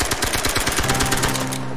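Rapid gunfire from soldiers in a World War II film scene, a dense burst of repeated shots with a low droning tone entering near the end, loud and continuous with no talking.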